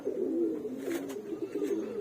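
Pigeons in a loft coo in low, soft, rolling calls that run continuously and close by, with brief faint rustles in between.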